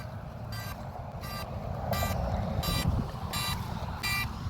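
A DJI Mavic Mini drone's locator alarm beeps repeatedly at a steady pace after a crash, six sharp high chirps over a rumbling outdoor background.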